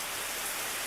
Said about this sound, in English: Look at all the water coming down.